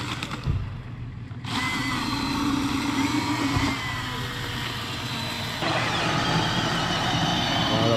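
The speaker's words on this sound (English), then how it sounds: "Electric saw against electric saw." Electric chainsaws cut wood in a race, whining loudly and steadily nearby, with the pitch shifting as the chains bite in and bursts of noise as another saw joins. Voices can be heard in the background.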